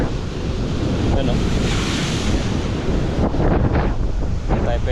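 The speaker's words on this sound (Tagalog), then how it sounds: "Kaya ganyan kalaki yung mga alon" Rough open sea with large waves surging and crashing amid heavy wind buffeting the microphone, a constant loud wash of noise.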